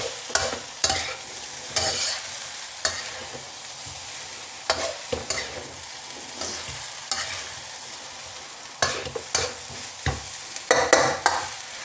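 Fried rice sizzling in a hot pan as moisture cooks off, with repeated scraping and stirring strokes, crackly and close, no voices.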